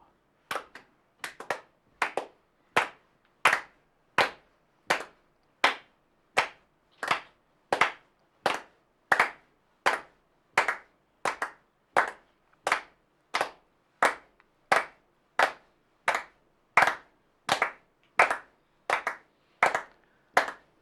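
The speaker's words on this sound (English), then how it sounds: "you just clap on all the does" Hands clap a steady sixteenth-note rhythm as a practice drill, with about thirty sharp, close claps in even groupings and short gaps between them. No one talks.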